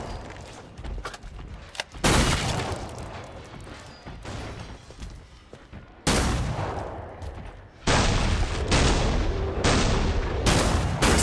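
Heavy gunfire from Killing Floor 2 on the Burning Paris map in Hell on Earth mode, with loud sharp shots and crashing impacts that come in bursts and stop abruptly, then sustained dense volleys, and no voices.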